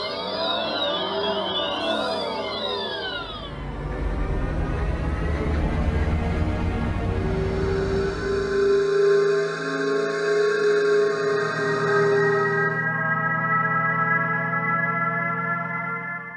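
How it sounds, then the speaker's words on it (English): Several synthetic pedestrian alert sounds from electric cars play one after another: a chiming warble, then rising whirs and sustained electronic tones, loud and close with no talk. "Are you familiar with the acoustic alert for pedestrians?"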